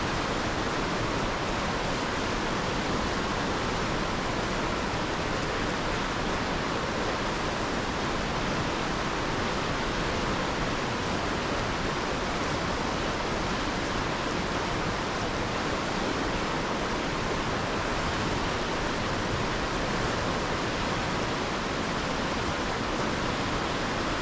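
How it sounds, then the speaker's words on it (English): Whitewater river rapids rush in a loud, steady broadband roar that holds unbroken throughout, with no voices over the churning water. "Out here on the Whitewater, it's noisy."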